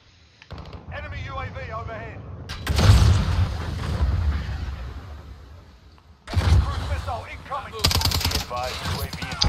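Gunfire in Call of Duty Modern Warfare, hardcore team deathmatch: loud bursts of shooting and booming blasts in two heavy waves, with a voice talking between and over them.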